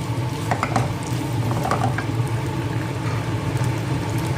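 Eggplant sizzles and scrapes in a pan as a spatula stir-fries it, with continuous frying hiss and irregular clinks throughout.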